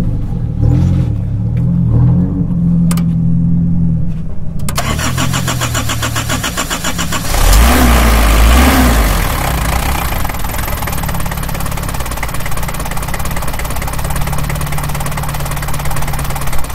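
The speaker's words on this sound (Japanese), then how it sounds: "オーナーさんエンジンかけていただいてよろしいでしょうか" A 1979 Nissan Gloria 220D GL diesel, an old R330 sedan, cranks briefly, then catches and settles into a loud, steady clattering idle that runs on at close range.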